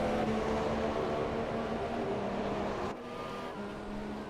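Sauber and McLaren Formula 1 cars racing in the game F1 2017 on the Bahrain circuit, a steady high engine whine holding on through the whole stretch with a slight dip in level partway through.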